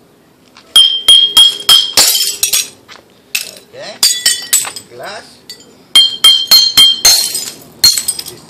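Drinking glasses are smashed in several rapid bursts of sharp crashes and tinkling shards, close and loud, with short pauses between volleys and a brief voice between them.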